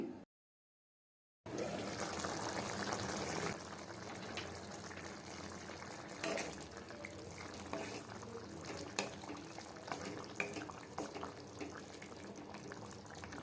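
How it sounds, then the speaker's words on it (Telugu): Water is poured into a cooking cucumber and mutton curry, a steady, moderate splashing pour that follows a brief gap and continues at the same level, with small stirring knocks. "నేను మరికొన్ని నీళ్లు పోస్తున్నాను."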